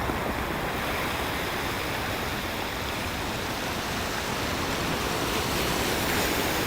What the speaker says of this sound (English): Yeah, the water sounds are very nice.